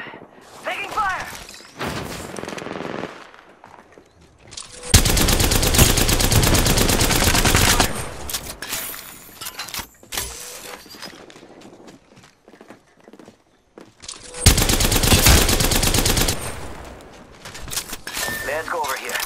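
Gunfire rattles through a close-range fight in the video game Apex Legends, with two long, loud bursts of rapid shots and scattered lighter shots and effects between them.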